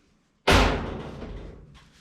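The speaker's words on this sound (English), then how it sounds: "the door shuts fine" A car door shuts in a single solid thud, loud and close, leaving a short decaying ring with faint rustling after it.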